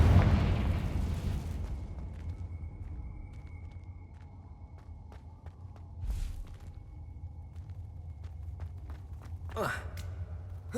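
Confringo fire spells burst in Hogwarts Legacy, a sharp blast at the start followed by softer pops and crackles amid a quiet ambient hum.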